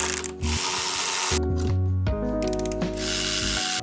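A ratchet and pawl mechanism clicks and whirs up close while spark plugs come out of a BMW N54 engine. The fast mechanical ratcheting runs in several loud stretches with brief gaps and no speech.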